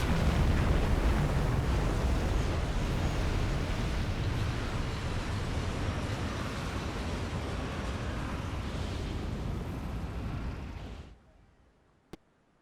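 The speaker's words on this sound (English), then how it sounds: "Torpedo impact. Torpedo impact." A torpedo striking a ship in Silent Hunter 5, heard as a long, loud, rumbling explosion that roars continuously for about eleven seconds before cutting off abruptly, followed by a single faint click.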